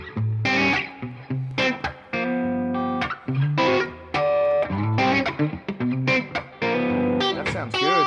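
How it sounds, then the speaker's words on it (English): Electric guitar played through a Toneking preamp with reverb on and delay off: loud, full strummed chords and ringing single notes in an uneven rhythm, with short gaps where the sound rings out. "Let's turn off that delay and hear the reverb straight"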